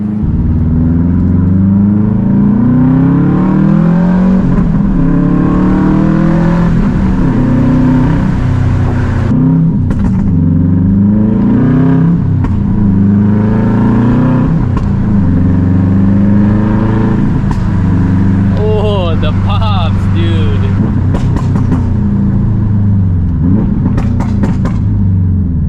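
Subaru WRX STI fitted with a new loud aftermarket exhaust, revving repeatedly outdoors with a deep rumbling idle between rising and falling throttle blips, close and loud throughout.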